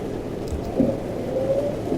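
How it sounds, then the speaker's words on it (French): Steady in-game rain hiss in Euro Truck Simulator 2 while driving a truck on a route from Marseille to Perpignan, a constant wash of falling drops over a low engine rumble, with no talk. "Super, il pleut en plus."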